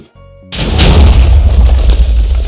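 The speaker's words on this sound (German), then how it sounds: "Und wir feuern auch schon mal die erste Kanone ab." A cannon fires in the video game Wargear v3: one sudden, heavy boom that rumbles on loudly for about two seconds, after a brief quiet moment.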